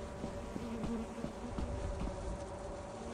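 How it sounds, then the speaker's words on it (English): Bees from a hive in the Lethal Company video game make a steady, close buzzing drone that holds at an even level throughout. "I need to get this bee ball!"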